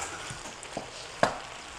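Shrimp pasta is stirred in a pan over a soft sizzle, with a few quiet scrapes and taps of the utensil and one sharper clink near the end.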